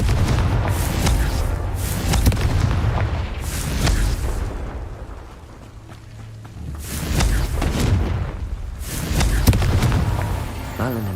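Heavy booming blasts from the Confringo spell in Hogwarts Legacy erupt one after another, several loud explosions with rumbling low tails spaced a few seconds apart, with no speech.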